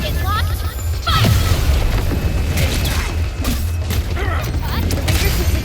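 Weapon fire aimed at a locked target in the Arknights Endfield game, dense booming blasts and mechanical clatter running continuously over heavy low rumble, with voices talking underneath.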